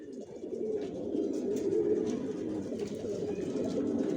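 Many racing pigeons coo together in a continuous, overlapping low murmur, close by and fairly loud, with no other voices.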